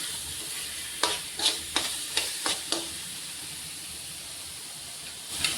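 Chicken frying in a pan gives a steady hiss and sizzle, broken by a quick series of sharp spatula scrapes and stirring clacks, then a lone final stir near the end.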